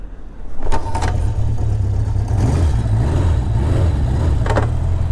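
A Honda CB750 Four motorcycle engine catches and runs with a steady low rumble, blipping into a couple of short revs, loud and close throughout.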